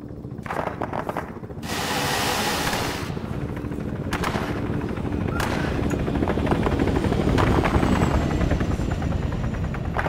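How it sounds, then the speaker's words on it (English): AK rifle fire in the ArmA 3 video game battle, rapid bursts of gunshots mixed with a continuous helicopter rotor drone, loud and busy throughout. "It's AK fire, isn't it?"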